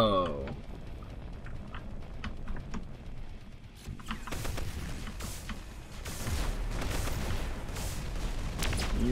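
Rapid automatic gunfire from a self-firing ship in a space shooter video game, steady clattering bursts that grow denser, with someone talking over the action.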